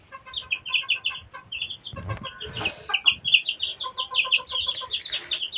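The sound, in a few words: young Tiger breed chickens clucking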